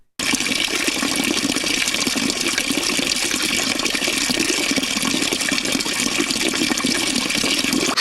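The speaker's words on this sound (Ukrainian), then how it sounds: "Шум джерела в цій місцині чути звідусіль." Water from a natural spring gushes continuously in a loud, steady rushing flow that starts abruptly and holds without pause, with no voices over it.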